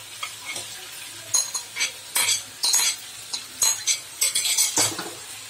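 Potatoes and salt are stirred in a curry pan for a Bengali chicken and potato jhol, a spoon scraping and clanking against the metal in a steady rhythm of repeated strokes over a soft sizzle, with no talking.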